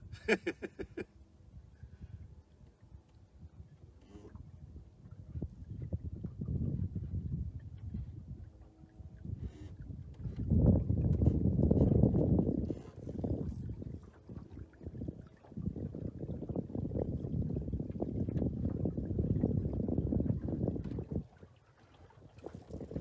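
Wind buffets a microphone aboard a sailing boat as a low, roaring rumble that swells and drops in gusts, fading briefly near the start and end; no talking.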